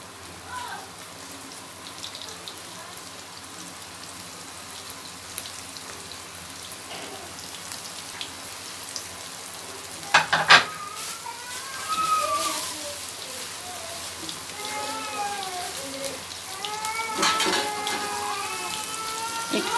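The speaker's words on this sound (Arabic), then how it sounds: "انا كده خلاص هروح بقى البوتاجاز نقليها. معايا اهو الزيت سخن" Marinated liver goes into hot oil and sets off a crackling, spattering fry that builds from light popping to a denser sizzle, with a voice talking over it.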